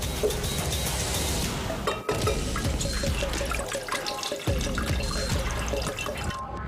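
Laboratory control water is poured into a container, a continuous splashing and trickling stream that breaks briefly about a third of the way through, with no talking.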